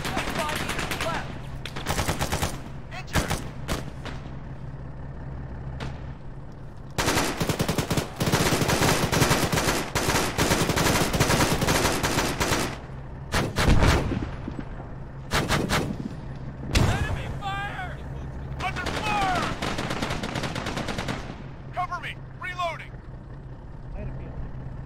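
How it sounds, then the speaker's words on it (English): Heavy machine gun fire in a military video game, with long rattling bursts and scattered single shots rolling on, close and loud. Voices call out over the gunfire. "Machine gun, 25 meters left!"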